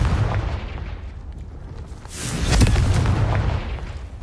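A Confringo fire spell explosion in the Hogwarts Legacy video game, a single booming blast swelling midway through over a low rumbling game background.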